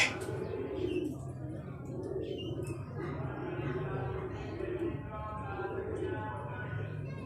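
Sabz Cheeny Sebe Wale pigeons coo softly in repeated low murmurs while someone talks over them at close range, with a few faint chirps and light background noise.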